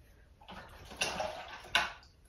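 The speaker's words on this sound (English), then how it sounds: "I rinse my brush out" An acrylic paintbrush swished and rinsed in a water cup, with two brief bursts of splashing and clinking against a quiet background.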